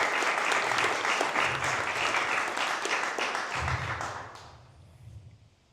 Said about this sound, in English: So a round of applause for Dr. Buck and for all the people at the Black Panther Party Museum.